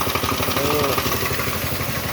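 A Chinese-made pressure washer engine running at a steady idle nearby, a continuous rhythmic mechanical putter while car wheel rims are being cleaned.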